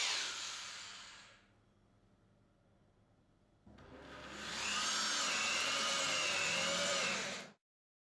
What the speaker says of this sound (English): drill a 28 mm diameter hole to a depth of 30 mm